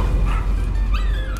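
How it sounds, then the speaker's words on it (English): A dog from the horror video game Layers of Fear barks and yips loudly and up close, in a short agitated burst with a whining edge. "That dog."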